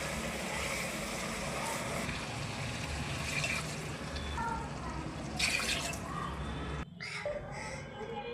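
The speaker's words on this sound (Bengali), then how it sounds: "মাছগুলো ভালোভাবে কষিয়ে নেওয়ার পর সিদ্ধ করার জন্য দিয়ে দিব পানি" Water is poured into a pan of magur catfish curry after the fish has been fried down in spices. A steady, close rushing and bubbling noise fills the whole stretch, briefly dipping near the end, with no one talking.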